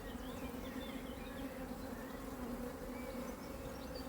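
Honeybees hum in a constant, dense drone during a hive colony inspection, close and steady, with no one talking.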